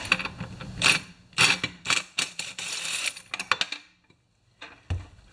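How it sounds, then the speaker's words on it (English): Spark plug wrench working a spark plug loose from a 53-year-old XP1020 chainsaw, giving a run of close, sharp metallic clicks and ratcheting rattles in uneven bursts, then a brief pause and a few final knocks. "we just get our tool with a spark plug wrench, which is right here now. We take this out, if we can."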